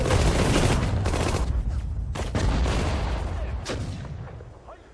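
A battalion gun fires in the Sudden Strike 4 Okinawa battle: heavy booming artillery shots and crackling gunfire in a dense, loud cluster that thins and fades toward the end.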